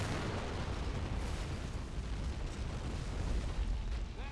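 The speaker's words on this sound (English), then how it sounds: "Artillery over there." Artillery explosions in the World War II strategy game Men of War: Assault Squad 2 rumble continuously, a dense, heavy wash of booms and blasts without distinct pauses or speech.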